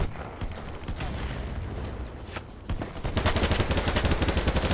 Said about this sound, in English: Oh, this gun has so much fucking recoil.